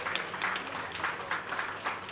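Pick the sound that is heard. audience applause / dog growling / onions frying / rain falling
audience applause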